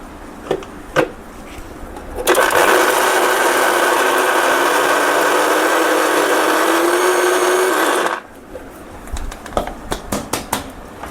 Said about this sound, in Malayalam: ലേശം ശകലം കൂടെ പൊടിക്കാം.